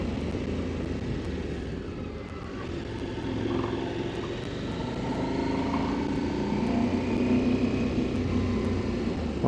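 Husqvarna Norden 901 adventure motorcycle pulls an aggressive takeoff on a winter ride at Hamlin Beach State Park, its engine droning steadily and rising slightly in pitch under a constant rush of wind.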